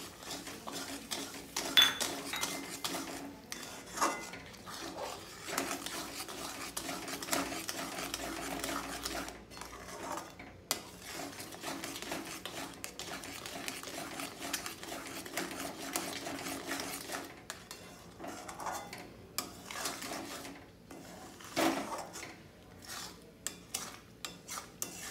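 Almond halwa with added sugar is stirred in a pan, a quiet continuous scraping with spoon clinks against the metal.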